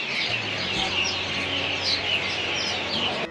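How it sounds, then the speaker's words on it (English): A tree full of birds near Kata Beach chirping loudly, a dense continuous chorus of high tweets and calls filling the air over a low background hum. "See the birds, I don't know what happened to them. They're chirping so loud."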